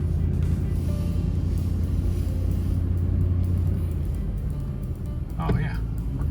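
A 1999 Ford F150 pickup on a test drive after a master cylinder replacement, its low engine rumble steady and close with a brief mechanical clunk near the end.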